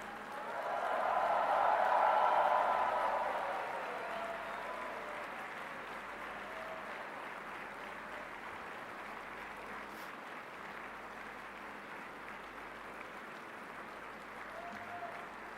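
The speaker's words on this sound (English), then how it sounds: "give them a very big round of applause and the loudest possible cheer" A graduation ceremony audience bursts into applause that swells loudly for a few seconds, then settles into steady, softer clapping that carries on for a long stretch.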